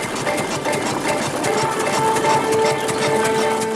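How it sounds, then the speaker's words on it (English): An early Edwardian-era farm tractor engine runs steadily while pulling a reaper binder through a field, giving a continuous, busy mechanical chugging with clattering machinery at close range and no talk. "The tractor's pulling a reaper binder, one of the most important agricultural machines of the age."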